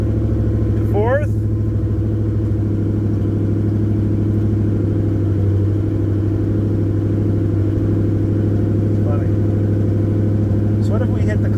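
A Corvette ZR1 engine, recovering from saltwater flooding, running steadily in fourth gear, with a loud continuous mid-pitched drone and a brief voice near the start.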